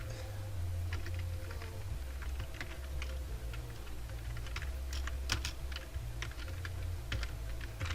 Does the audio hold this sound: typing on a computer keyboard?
yes